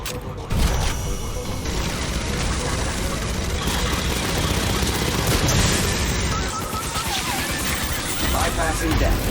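Dense, rapid bursts of gunfire in the video game Aliens: Fireteam Elite, with loud crashing impacts and game voices speaking over the shooting.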